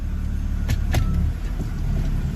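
A BMW E90 sedan shifts into reverse: two quick, close clunks over a low, steady idling hum.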